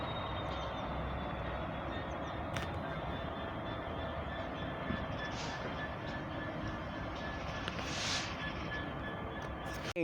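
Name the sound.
East Midlands Railway train arriving at Leicester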